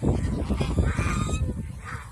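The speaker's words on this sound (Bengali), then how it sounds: "এই যে ঝগড়া লাগছে দুইটাই ছেলে হাঁস" Two male geese fight, honking harshly in a loud, agitated burst close by, with a low rumbling scuffle underneath.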